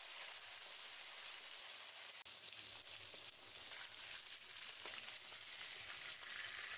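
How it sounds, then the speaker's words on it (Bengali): Hilsa fish heads frying until crisp in hot oil, a steady, dense sizzle that holds evenly throughout, close and moderately quiet with no voices. "এবার উল্টিয়ে আরও একটা পিঠ বেশ কিছুক্ষণ ধরে মুচমুচো করে ভেজে তুলে নেব।"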